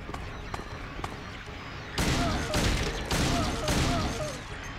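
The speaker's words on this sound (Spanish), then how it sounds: "Cuatro tiros." Pistol gunfire in the video game Silent Hill 2, a few sharp, loud shots spaced about a second apart following quieter game ambience and footsteps.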